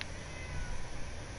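A cat in Fallout 4 gives a drawn-out meow at close range, a steady caterwauling tone over a noisy game background.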